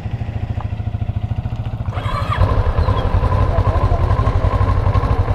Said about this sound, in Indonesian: Nah, untuk suara idle-nya seperti ini ya.